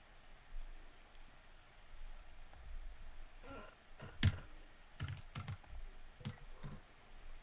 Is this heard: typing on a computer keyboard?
yes